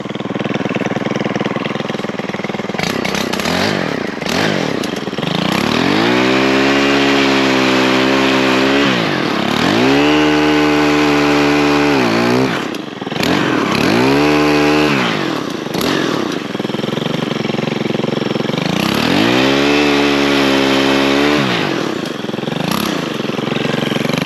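Stihl MS462 chainsaw during storm cleanup, loud and close, idling between repeated revs up to full cutting speed and back, several long high-revving passes with brief pauses.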